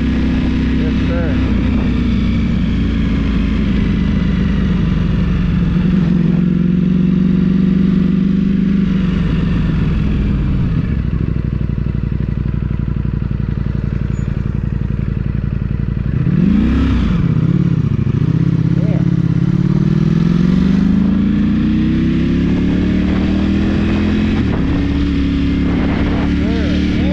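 Yamaha motorcycle engine droning steadily while riding on the road, pitch rising and dipping through throttle changes and gear shifts, with wind noise and occasional voices over the ride.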